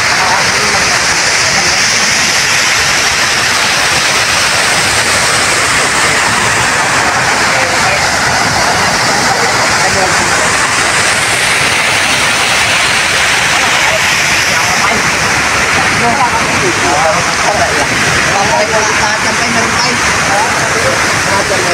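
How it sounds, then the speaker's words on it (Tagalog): Heavy typhoon rain pours down alongside rushing flood water, a dense, loud and unbroken hiss and roar that holds steady throughout. "dahil bagyo at malakas ang ulan"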